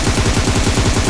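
Rapid gunfire from the PUBG video game rattles in a dense, fast burst, loud and close, with no talk over it.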